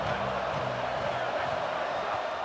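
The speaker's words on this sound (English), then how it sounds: "They challenge this crowd to bring the energy, and I'd say they're doing that." Stadium crowd in EA Sports College Football, a steady, dense roar of cheering fans heard throughout, with a commentator's voice talking over it.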